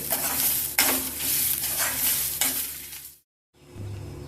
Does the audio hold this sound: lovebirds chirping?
no